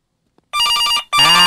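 Two close, loud bursts of ringing from a telephone in the horror game Hanako, bright trilling bell tones with a brief pause between them and nothing else heard.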